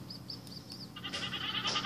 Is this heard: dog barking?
no